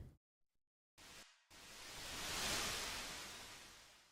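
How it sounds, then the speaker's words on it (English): A white noise transition effect in an electronic music track, a broadband hiss that cuts in and out briefly, then swells steadily to a loud peak and slowly tapers, standing alone with no voices. "I'll use effect sweeps or white noise to be the transition."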